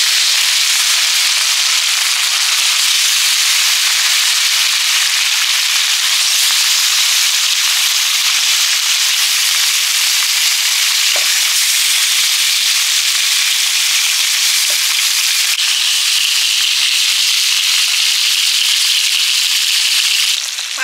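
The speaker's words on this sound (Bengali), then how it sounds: "এবারে মাছগুলো ভেজে নিচ্ছি।" Fish sizzles in hot oil with a loud, continuous, close-up crackling hiss that stays even for about twenty seconds, broken only by a few faint pops, with no voices.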